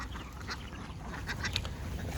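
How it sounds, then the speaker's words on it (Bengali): A small flock of domestic ducks that wandered out gives a few scattered, faint quacks over a low background rumble, heard briefly from some distance with no talking. "যেহেতু আমাদের কিছু হাঁস বাইরে চলে গেছে"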